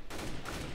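Gunfire in the video game Counter-Strike: Global Offensive comes as a quick burst of sharp shots in under a second, fairly loud and close.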